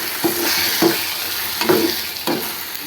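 Tomatoes fry in a hot pan for mushroom gravy, a steady sizzle broken by four distinct scraping stirs at roughly even intervals, close and fairly loud, with no talking.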